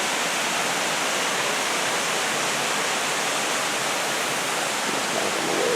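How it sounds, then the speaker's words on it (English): Waterfall at McConnells Mill pours in a steady, loud, broadband roar of rushing water that fills the scene without pause, close by and unbroken. "it's the waterfall."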